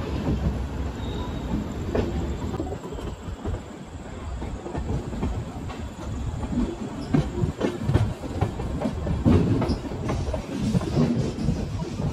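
A passenger train bound for Haridwar runs steadily along the rails, with a continuous rumble and clickety-clack of the wheels heard from inside the carriage, loud and sustained throughout with no talking.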